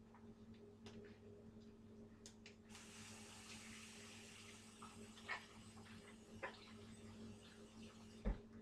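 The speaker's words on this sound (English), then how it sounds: "I'm going to rinse my hands off" Tap water running into a kitchen sink while hands are rinsed, a faint, steady hiss of flow with a few soft clicks and knocks, distant and quiet.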